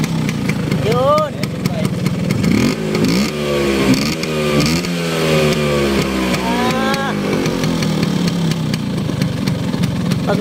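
A vintage 1971 Vespa scooter engine runs close by, its steady putter rising and falling as the throttle is blipped several times across the stretch.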